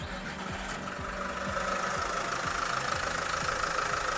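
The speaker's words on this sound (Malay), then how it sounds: "Ini ialah bunyi enjin N04C." A Hino 300 tipper truck's turbocharged, intercooled N04C diesel engine idles just after starting, with a steady low rumble and an even, rhythmic knock close by.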